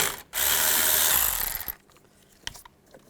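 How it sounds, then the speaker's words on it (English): Socket ratchet with a 10mm socket backing out a bolt near the AC hose and exhaust manifold of a 2002-2009 Chevrolet Trailblazer: a loud, dense burst of ratcheting clicks for about a second and a half, then fading to a few faint clicks and small knocks. "take this bolt out. Use a 10mm socket."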